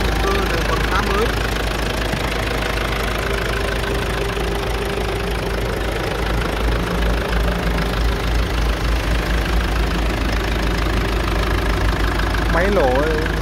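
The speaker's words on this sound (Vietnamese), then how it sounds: "Máy lổ rất là giòn, rất là êm, không có hiện tượng rung lắc." A diesel engine idles steadily in a 2011 Forerunner XL manual pickup, a close, continuous low rumble with a faint knock throughout and a voice heard briefly near the end.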